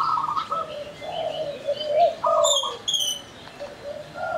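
House sparrows wake and chirp near a drying yard, sharp repeated chirps mixing with lower cooing bird calls, close and lively with no talk.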